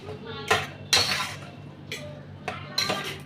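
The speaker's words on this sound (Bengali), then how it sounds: "সর্ষে পোস্ত পাউডার দিয়ে ভালো করে মাখিয়ে দিলাম" Food is mixed by hand with mustard and poppy seed paste in a metal bowl, giving several close clanks and scrapes of the bowl at irregular intervals, with a faint voice in the background.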